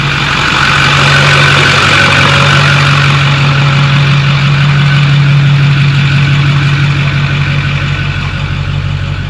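A truck engine idles steadily after an oil leak repair, a continuous low rumble with a strong hum, loud and close, holding an even pitch throughout with no talk.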